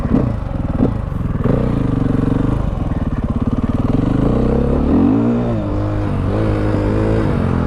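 A 2016 KTM 500 EXC dirt bike engine runs loud and close, idling with a rapid pulsing throb and rising and falling through several revs.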